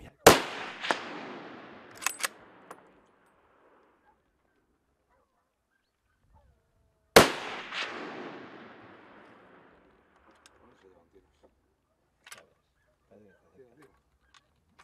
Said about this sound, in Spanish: tras varios disparos a larga distancia, ha conseguido salir ileso